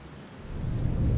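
Dense, steady downpour with a deep rumbling wash beneath it, swelling slightly louder over a moment, no voices.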